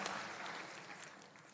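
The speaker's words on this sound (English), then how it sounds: "Give ourselves a round of applause, guys, because each and everyone deserves it." Graduates and guests at a university convocation clap together in a dense burst that fades slightly over a second or two.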